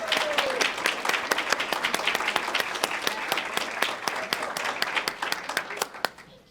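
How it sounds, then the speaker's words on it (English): A school audience gives sustained applause for the speakers at a middle school speech contest. Dense, loud clapping runs steadily for several seconds, then thins out and fades at the end. "Let's give them all a hand."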